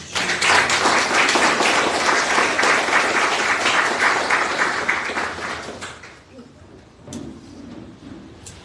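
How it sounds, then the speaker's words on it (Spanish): Strong applause rises from a church congregation during a Spanish-language service, a loud, dense burst of many hands lasting several seconds before fading quickly into quiet room sound with a few stray claps. "Vamos a darle un fuerte aplauso a Cristo Jesús."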